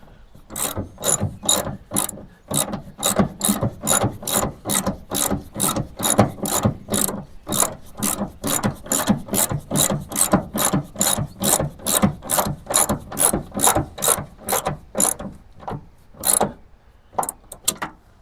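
Rapid, steady clicking of a hand ratchet being cranked on door hinge bolts of a 1976 Chevrolet C20 pickup, dozens of sharp metallic ticks in an even rhythm, close up with brief pauses near the end.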